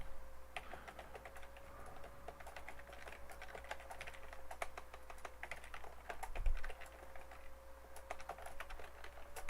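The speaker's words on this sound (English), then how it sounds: "The more I think about typing fast for you guys, the worse I type." Rapid, uneven keystrokes patter on a computer keyboard, close and fairly quiet, over a faint steady electrical hum.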